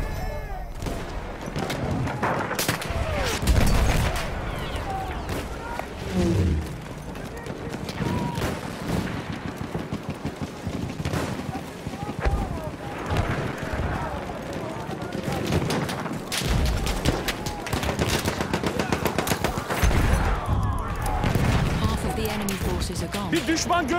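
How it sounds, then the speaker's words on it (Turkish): Dense gunfire from a Battlefield 1 multiplayer operations battle, rapid bursts and scattered shots layered over explosions and battlefield noise, continuous and loud throughout, with voices calling out over the fighting. "Orada bir makine tüfek var."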